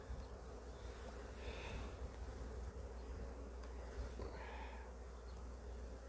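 Honey bees from a backyard hive, stirred up by a beekeeper working the frames, hum in a dense, steady, close drone that holds without a break from start to finish.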